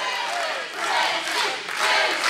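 A wrestling crowd at an IWC Boiling Point event cheers and yells loudly and steadily, a dense roar of many voices swelling in waves with no clear speech over it.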